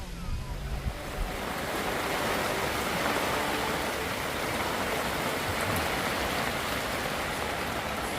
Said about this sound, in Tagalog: Dito kami sa isang maulan na camping. Sobrang lakas ng ulan.